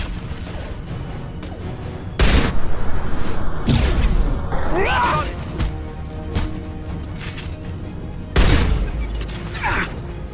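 Flashbang grenades go off during a Mass Effect 2 firefight: several loud, abrupt blasts spaced seconds apart over continuous combat noise, gunfire and clatter.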